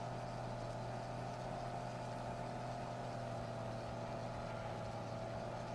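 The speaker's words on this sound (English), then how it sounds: "At least this tractor sounds good while it's struggling up the hills." A tractor engine labors uphill in the video game Farming Simulator 22, a constant, droning low rumble with a steady hum layered over it, unbroken throughout.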